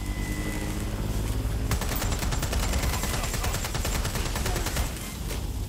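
Sustained automatic gunfire in the video game Watch Dogs: Legion: a continuous rapid stream of loud shots that thickens after the first couple of seconds and carries on to the end, with no talk.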